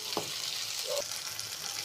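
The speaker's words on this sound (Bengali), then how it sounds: "এখন এই পেঁয়াজ কাঁচামরিচের ভালো করে লাল লাল করে ভাজতে নিই।" Sliced onions and green chillies fry in a pan, giving a steady, soft sizzle with a couple of faint stirring scrapes, close and quiet, with no talk.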